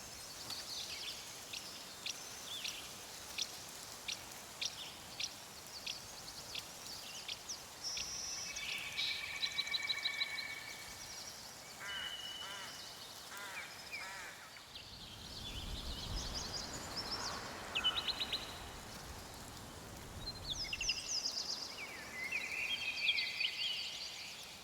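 Daytime forest ambience from the video game Nightingale: scattered chirping birds and buzzing insects at moderate distance, with repeated short calls early on, a rustling swell midway, and denser birdsong toward the end, no voices.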